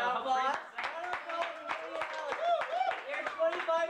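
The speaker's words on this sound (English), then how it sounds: "Give her a round of applause." A small audience clapping for a birthday at a casual gathering, sharp distinct claps in a fairly steady rhythm, with voices talking and cheering over the clapping throughout.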